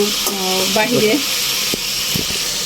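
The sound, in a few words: food frying in a pan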